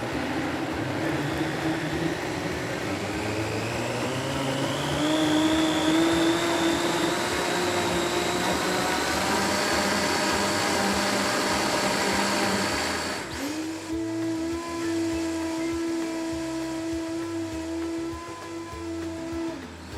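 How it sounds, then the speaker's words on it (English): A blender running continuously on a plant-based milk mixture with coconut sugar, a loud steady whir that shifts pitch partway through as the speed changes, with no talk over it. "then we are going to blend that again"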